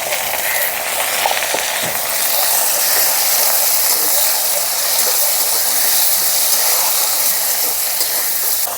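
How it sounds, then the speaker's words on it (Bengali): Chopped tomatoes hit a hot pan for a vegetarian taro-leaf and chickpea dish, setting off a loud, steady broadband sizzle and hiss that holds evenly throughout without any voices. "এখন এর মধ্যে দিয়ে দিচ্ছি কেটে রাখা টমেটোগুলো"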